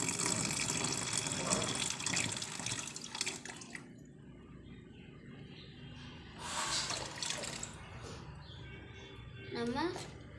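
Water is poured into a container while setting up for betta fish breeding, in two or three separate pours of varying length, close and fairly loud, with a mix of broadband splashing and a rising gurgle at the end.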